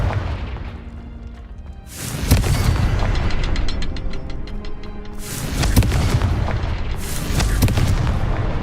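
A Confringo blasting spell goes off in the Hogwarts Legacy video game, giving two loud booming bursts with a crackling, ringing tail. Dense game music and effects fill the gaps between them.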